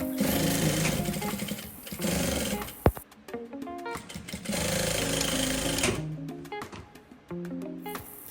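A sewing machine stitches a trouser fly zipper in loud close bursts of rapid motor hum and needle chatter, pausing briefly between runs.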